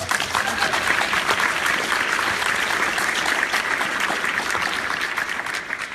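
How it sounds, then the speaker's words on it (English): Audience applause at a talk featuring Abby Wambach and Adam Grant, a loud, dense, even roar of clapping that holds steady for several seconds before easing slightly at the end. "I think that deserves a round of applause"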